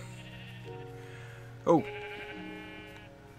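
In the Minecraft video game, a sheep gives a single short bleat, clear and close, over a soft background of game music; a voice makes a brief sound.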